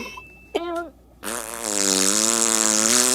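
Cartoon fart sound effect from SpongeBob SquarePants, an anteater-style mouth fart: a short buzzy blip, then a long, loud, sustained raspy drone that holds steady for a couple of seconds, heard alone.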